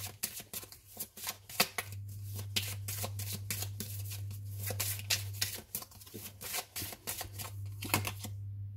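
Tarot cards being shuffled and drawn at close range, with a steady stream of crisp riffling flicks and slaps that lasts about nine seconds over a low, constant hum, and no talking.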